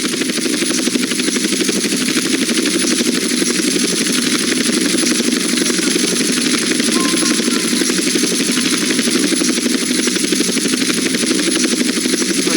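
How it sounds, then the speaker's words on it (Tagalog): A helicopter flies in the video game GTA San Andreas, a loud continuous rotor and engine drone that holds steady and close throughout with no break. "madali lang ako nag-helicopter"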